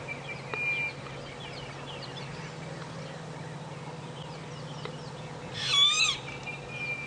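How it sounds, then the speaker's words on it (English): An orange-breasted bush shrike gives repeated low hooting calls in the background, with a few sharper bird notes and a brief louder call near the end, at sunrise on safari. "That's the orange-breasted bush shrike, and that's what's calling at the moment behind us."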